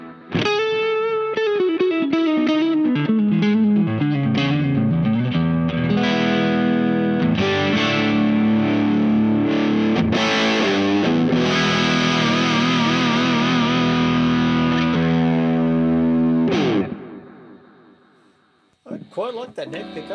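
Electric guitar on its neck pickup through a DOD OD/PRE 250 overdrive pedal, a run of sustained overdriven notes and chords that rings out and fades, then a brief strum near the end.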